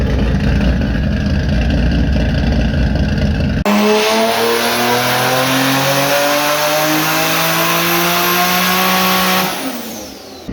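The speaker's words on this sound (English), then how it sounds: "Listen to the idle right now." A 1000 hp Infiniti G35 idles loud and close with a heavy, choppy lope, then revs up with rising whine and harmonics before the engine settles back down near the end.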